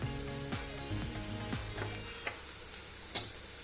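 Onions frying with ginger garlic paste in a pan for egg fried rice, a steady close sizzle with periodic stirring scrapes and one sharp clink near the end.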